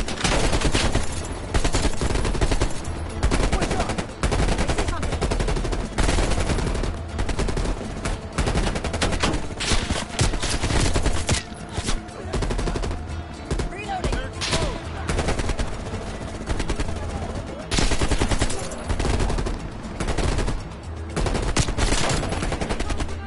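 Gunfire in Call of Duty Cold War, loud and nearly continuous, with rapid automatic bursts and overlapping shots crowding the whole stretch with barely a pause.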